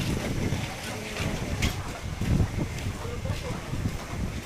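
Strong wind gusting and buffeting the microphone outdoors, a loud rumbling roar that swells and eases in waves, with voices faintly present beneath it.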